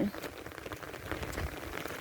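Steady rain pours down during a Lao-style bone-collection ceremony, a dense pattering hiss throughout with a person talking over it.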